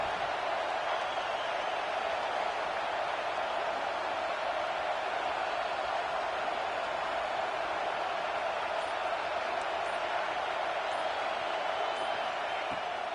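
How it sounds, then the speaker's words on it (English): Home crowd roaring steadily at an American college football game on third down, a dense continuous wash of stadium noise heard from within the stands. "Here comes this home crowd as the defense tries to get off the field on 3rd down."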